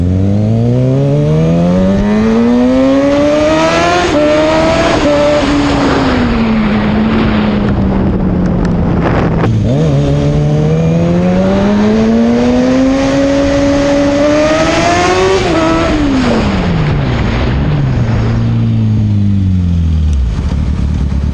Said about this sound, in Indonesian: Ini adalah salah satu tempat favorit yang biasanya teman-teman sering narik gas di sini.